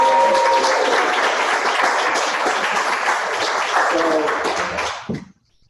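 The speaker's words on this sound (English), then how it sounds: "Give yourself a round of applause." An audience at a Super Saturday morning gathering bursts into steady, loud applause that lasts about five seconds and then stops sharply, with some voices mixed into the clapping.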